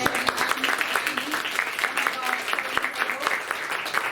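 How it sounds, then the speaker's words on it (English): An audience applauds during a wellness business session, a dense, fairly close patter of clapping that runs evenly throughout with a few louder individual claps. "So another big round of applause for them."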